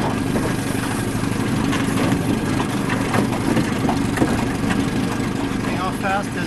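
Fishing boat engine idling on a lake, a steady close low rumble running throughout with some water and voice sounds over it.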